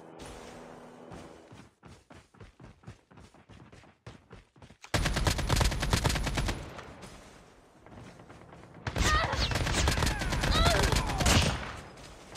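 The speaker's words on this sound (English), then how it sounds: "hearing some shots down here too" Gunfire in a first-person shooter game: a string of sharp single shots, then two long loud bursts of rapid automatic fire with a quieter lull between them, rattling close and heavy.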